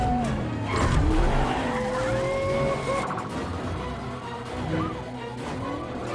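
A red car tears away in a film chase scene, engine roaring with long squealing tire skids sweeping up and down, loud and continuous under a dense soundtrack.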